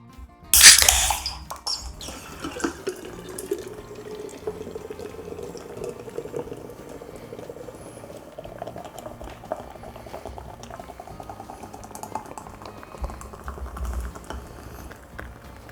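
Guinness and Murphy's stout poured into pint glasses: a sharp splash at the start, then a steady liquid pour with a slowly rising pitch as the glasses fill, continuous and close.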